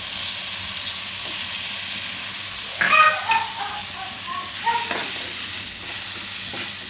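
Tandoori Maggi ingredients are stirred and mixed in a hot pan under a steady, loud sizzle, with a few brief scraping clinks from the spoon partway through.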